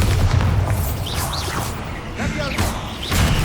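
A Bombarda blasting spell goes off in Hogwarts Legacy, with deep booming blasts, debris crashes and swooshing magic effects, loud and close, repeating in bursts.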